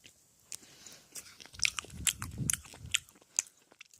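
Close, crunchy chewing of red bean shaved ice (patbingsu), with icy crackles and bites bunched in the middle and scattered crisp crunches around them; quiet overall, with no talk.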